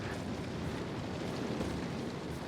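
Platform crashing down in the video game Rogue Trader, a dense continuous rumbling roar of collapse and debris, loud and steady across the whole moment with no voices.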